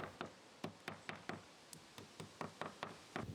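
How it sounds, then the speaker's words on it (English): Plastic wall plugs are knocked into freshly drilled holes in a wall while a Reolink RLC-423 security camera is being mounted. About a dozen sharp, close hammer taps come in an uneven rhythm, with no voices. "I'm now knocking in the wall plugs."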